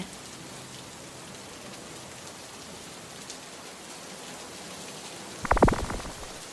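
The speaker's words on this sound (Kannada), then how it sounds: "ಮಳೆ ಶುರು ಆಗ್ಬಿಡುತ್ತೆ ಹೋಗ್ತಾ ಹೋಗ್ತಾ ಮಳೆನು ಜೋರಾಗುತ್ತೆ" Heavy rain hisses steadily and densely throughout, a constant wash of falling water, with a brief louder burst of thudding or clatter near the end.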